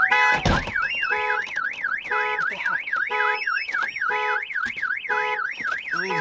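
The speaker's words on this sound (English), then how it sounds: "So it tells me the alarm was going off." Ford Mustang GT car alarm blaring up close, a rapid warbling siren sweeping up and down, broken by loud chirps and repeated honking beeps in a steady cycle, with a sharp bang near the start.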